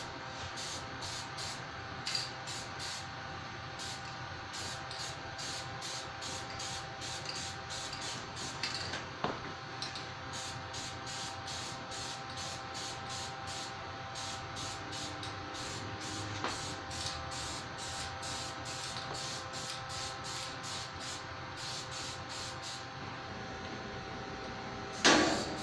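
Spray gun applying paint to the body of a John Deere 111 garden tractor being built for tractor pulling, a steady even hiss running throughout with faint shop noise and a brief clunk at the end.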